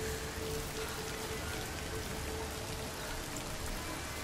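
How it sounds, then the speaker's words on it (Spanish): Steady, dense rain falls in the video game Hellblade 2, a continuous hiss of drops hitting surfaces, faint and uniform throughout. "Mucha lluvia, ¿no?"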